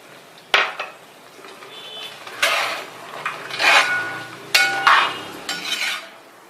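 Cardamom powder and dry ginger powder are stirred into a pan for sarkara varatti, with repeated scraping strokes of a spoon and a few sharp metallic knocks on the pan, close and fairly loud.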